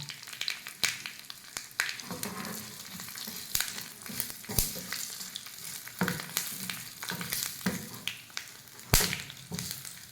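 Curry leaves and dried red chillies crackling in hot oil for a mango curry, with dense irregular pops and sharp spits over a continuous sizzle and occasional stirring, close and fairly quiet, with no voices.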